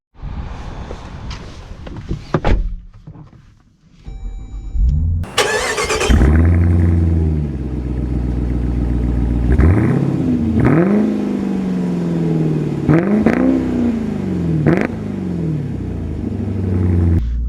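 A 2025 Dodge Durango Hellcat V8 starts with a loud bark, then revs and accelerates hard through several gear changes, each rising engine note falling back at the shift, close and dominant throughout.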